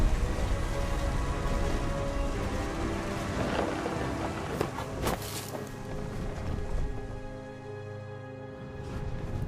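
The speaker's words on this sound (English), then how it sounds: "The thunder sounded much too close and full of angry power." Thunder rumbles close and heavy over steady rain on a stormy beach night in the video game What Remains of Edith Finch, with loud continuous downpour and a sharp crack partway through.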